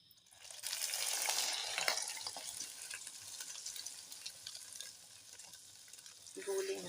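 Semolina poured into milk in a pan and stirred, giving a faint, steady sizzling hiss with light stirring scrapes, louder at first and then easing off, with no talking.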